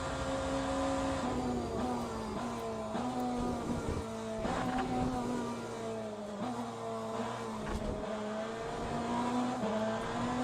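A Ferrari race car in the sim racing game Le Mans Ultimate drones steadily as it draws closer, its engine whine rising and dipping through gear changes over a continuous, fairly loud roar, with no talking.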